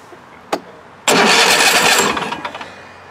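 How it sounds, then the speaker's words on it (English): A Bad Boy ZT Elite riding mower engine starts after a single sharp click, cranking into a loud, rough roar that settles and fades toward a lower idle with a few sputters, close to the microphone. "I'm going to fire this thing up and I'll show you with my voice."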